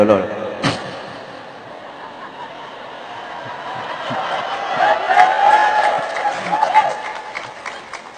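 An audience at a humorous Islamic religious sermon bursts into applause, with a sharp clap at the start. The clapping and crowd noise swell and carry on steadily for several seconds, mixed with laughter and a voice.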